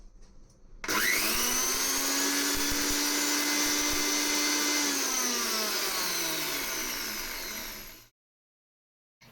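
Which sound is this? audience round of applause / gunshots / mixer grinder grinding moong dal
mixer grinder grinding moong dal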